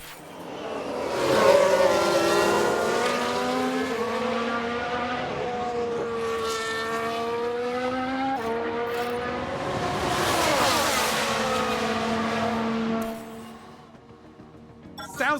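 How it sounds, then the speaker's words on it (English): An F1 car in F1 Manager 22 screams through rising and falling engine notes in a 1995-era Ferrari race, with faint squeal-like tones mixed in and light commentary underneath. "Sounds like someone's locked up."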